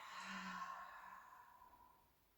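A slow, deep exhale in a guided breathing exercise, a soft airy sigh close to the listener that fades out gradually, with no talk over it.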